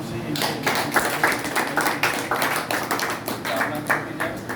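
An audience at a Bharatiya Pashupalak Sangh gathering in Puranpatti, Varanasi, claps energetically in quick, uneven beats for Manoj Yadav's birthday, close and steady throughout.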